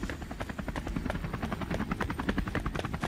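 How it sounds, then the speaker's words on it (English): A helicopter lifts off with rapid, pulsing rotor beats and a loud engine whine, close and continuous throughout, in a Jurassic Park toy movie remake. "Get this fucking chopper up the air now!"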